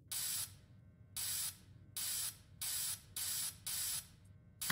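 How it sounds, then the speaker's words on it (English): Faz Spray cleaning spray is sprayed onto an animatronic suit in a video game, six even hissing bursts about half a second each, separated by short pauses, with a low background hum. "All right, so now we gotta spray the suit."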